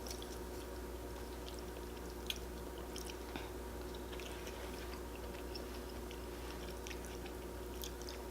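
Close, quiet mouth sounds of someone eating gluten-free spicy noodles, with soft steady chewing and occasional wet smacks and slurps running continuously over a faint background hiss.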